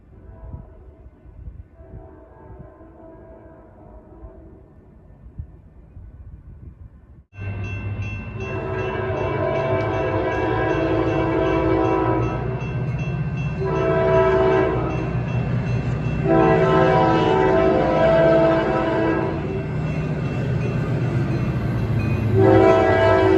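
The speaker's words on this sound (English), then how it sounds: "the train is currently about to pass Pembroke Station" A train passes Pembroke Station with leader locomotive 5577, arriving abruptly with a loud, steady rumble. Its horn sounds in several long repeated blasts over the rolling noise, close by, after a quieter stretch of faint ambient sound.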